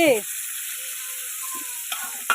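Fish fries in hot oil in a wok, giving a continuous bright sizzling hiss close by, broken by a couple of sharp spatters near the end, with a brief sound at the start and no talk.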